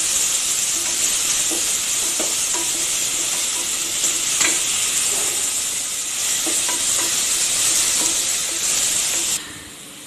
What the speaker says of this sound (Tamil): அதையும் பச்சை வாசம் போகிற அளவுக்கு நல்லா வதக்கிடலாம்